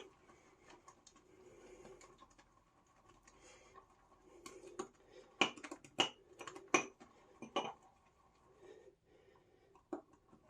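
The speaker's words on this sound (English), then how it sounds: "you're going to hear a little clanking in here" Quiet, intermittent clinks and taps of a shaving brush knocking against a ceramic mug while whipping lather, growing into a brief cluster of sharper clanks before settling down.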